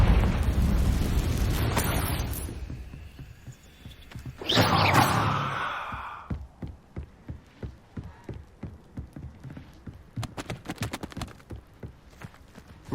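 A fiery Confringo spell blast in Hogwarts Legacy erupts as one loud, rushing burst partway through, then gives way to a run of quiet, evenly spaced footsteps.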